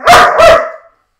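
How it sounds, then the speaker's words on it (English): A pet dog gives two quick, loud barks close by, the second fading out with a short tail into silence. "My dog's barking"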